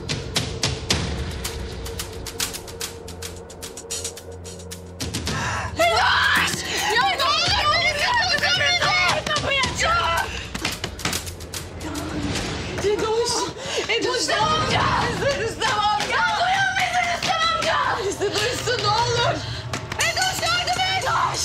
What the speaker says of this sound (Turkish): Nedir bu bağırışmalar?